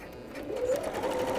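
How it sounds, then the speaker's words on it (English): A sewing machine stitches fabric bracelet pieces together in a short, steady whirring run of needle strokes, close and fairly quiet. "stick them underneath your sewing machine"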